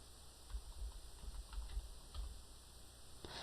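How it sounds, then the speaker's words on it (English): Quiet typing on a computer keyboard: a short run of light, irregular key clicks, soft and close, over a faint steady electronic hum, with no talking. "I'm going to type in Device"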